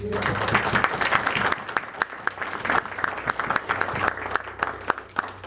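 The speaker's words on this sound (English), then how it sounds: "So on behalf of my brother Tim Mahone, I want you to give him a round of applause." An audience at a leadership academy announcement event breaks into sustained applause, with many hands clapping briskly and evenly throughout. A few sharper individual claps stand out near the listener.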